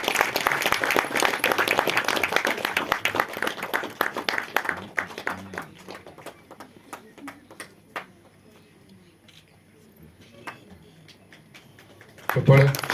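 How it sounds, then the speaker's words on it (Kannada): An audience claps in a dense burst of applause while guests are honoured at a premiere show. The clapping thins out after about five seconds into scattered claps with voices, then a short loud burst returns at the end. "ಚಪ್ಪಾಳೆ."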